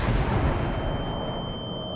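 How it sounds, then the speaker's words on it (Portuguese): A bomb explodes in the horror video game Martha Is Dead, a heavy, booming blast with a deep rumbling tail that slowly decays over two seconds. "Não, foi uma bomba."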